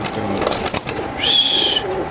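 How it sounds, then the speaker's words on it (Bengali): Racer pigeons, a male and female pair in a cage, giving soft cooing calls close by, with a brief higher bird note partway through. "এটা নর কবুতর, এটা মাদি কবুতর"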